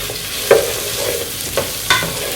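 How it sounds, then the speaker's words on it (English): Onions frying in a pot, giving a steady broadband sizzle with three or four sharp stirring scrapes and clatters spaced through it, close and moderately loud, with no talking. "in the same pot, I just added my onions, and I'm going to fry this for a minute"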